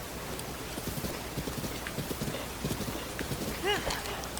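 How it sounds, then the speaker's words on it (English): Horses trot in the video game Zelda: Breath of the Wild, with a steady run of soft clip-clop hoofbeats and a brief whinny-like sound near the end, all over a background ambience. "some horses."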